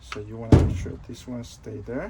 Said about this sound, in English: That noise is my door.